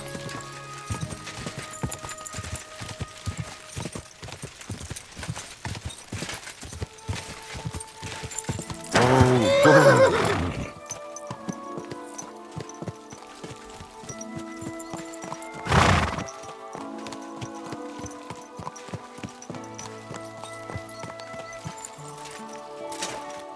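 Steady hoof clip-clops and a horse's whinny come from the medieval game Kingdom Come: Deliverance 2, with the footfalls continuing throughout and two louder bursts standing out.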